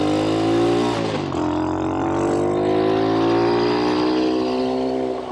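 A vintage Honda CT70 trail motorcycle with a Tbolt USA big bore kit drones steadily while being ridden. Its loud buzzing engine note dips briefly near the start, as if shifting gear, then climbs and holds steady.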